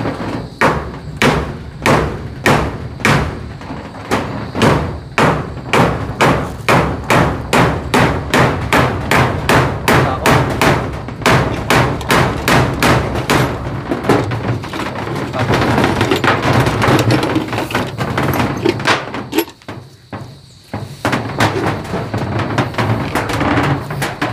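A hammer drives a nail with loud, close, evenly spaced blows that gradually speed up, then a denser burst of strikes, out in a forest setting.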